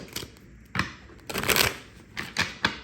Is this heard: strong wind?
no